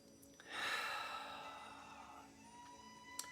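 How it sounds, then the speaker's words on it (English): A single long, soft exhale during guided meditation, breathy and close, rising quickly then fading gradually over a couple of seconds in a quiet room. "And release the breath."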